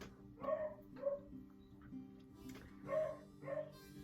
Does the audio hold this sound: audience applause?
no